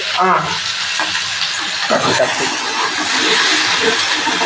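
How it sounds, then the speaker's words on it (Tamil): Food sautéing in a pan during night cooking, a steady bright sizzle and hiss with occasional stirring scrapes, close and continuous, with a voice talking over it. "இது வதக்கிக்கிட்டே இருக்கணும் 5 நிமிஷம்."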